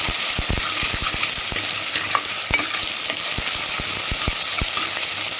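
Tomato mixture sautéing for village-style country chicken rasam, frying with a loud continuous sizzle and repeated quick scraping stirs of a ladle against the pan, close up with no talking.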